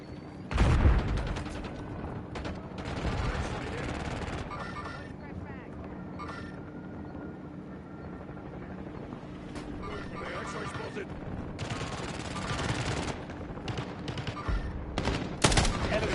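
Gunfire from Call of Duty: Warzone rattles through the scene in sustained bursts and overlapping volleys, steady and fairly loud from start to finish, with a heavy blast near the start and another near the end, mixed with in-game voice chatter.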